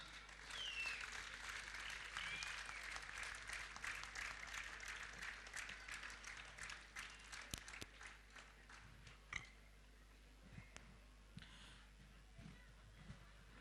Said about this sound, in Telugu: సన్నాయి డోలు ఆగిన చోట చప్పట్ల హోరు మ్రోగాలి.